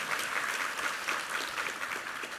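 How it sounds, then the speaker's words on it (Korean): A church congregation claps for the second-service choir and its conductor, a dense, even burst of applause filling the space. "우리 위정민 지휘자와 이부 성가대에게 힘찬 격려의 박수 부탁합니다"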